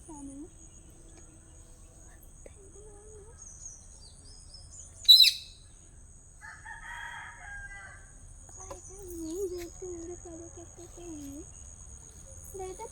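A rooster crows faintly from a distance in a rural yard with hens, alongside scattered bird chirps, a steady cricket hum and a single sharp nearby sound.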